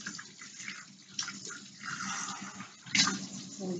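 Tap water runs from a faucet as soap is rinsed off hands, a quiet, uneven splashing that surges briefly near the end.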